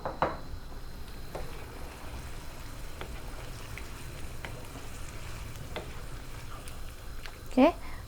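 Beef and partly cooked plantain being stirred in a pot make soft, intermittent scraping and sloshing sounds over a low cooking hiss, with one sharper clatter near the end.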